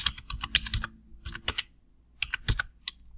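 Crisp computer keyboard keystrokes typing a folder name, close and clear in quick clustered bursts with a short pause midway.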